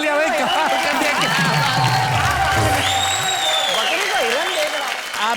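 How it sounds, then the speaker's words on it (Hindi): A studio audience at a Hindi comedy poetry show applauds in a continuous, dense wash of clapping as voices speak and call out over it. "एक बार जोरदार तालियां भाई, कमाल कर दिया।"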